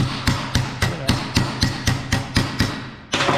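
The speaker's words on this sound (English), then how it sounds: "just beat on it with a hammer" Hammer blows on a metal wheel tub bracket for a 1967 Chevelle, held on a shop table: about nine sharp, loud strikes at a steady, quick rhythm, each one ringing briefly before the next.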